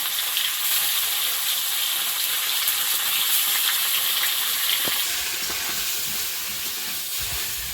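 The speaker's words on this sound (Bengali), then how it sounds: "এবারে মশলাপাতি ভাজা হচ্ছে" Spices fry in a pan of oil for a fish curry cooked with ridge gourd, giving a steady, loud sizzle with some hissing steam and faint stirring, and no talk.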